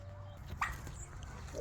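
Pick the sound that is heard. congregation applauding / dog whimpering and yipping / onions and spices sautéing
dog whimpering and yipping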